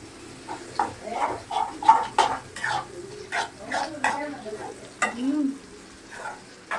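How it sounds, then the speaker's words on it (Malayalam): Prawns fry in hot oil in a pan, giving a light sizzle with stirring and scraping, under someone talking in short bursts close by. "അവസാനം നമ്മുടെ ചെമ്മീൻ വറുത്ത് കഴിഞ്ഞാട്ടാ"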